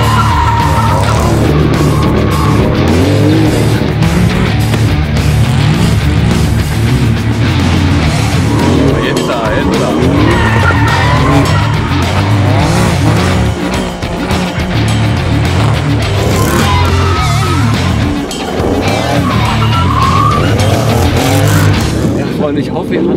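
A Mercedes W205 C63 4Matic+ tuned by GAD-Motors to 1300 hp drifts with steady, loud tire skidding and a roaring engine throughout, under a voice talking.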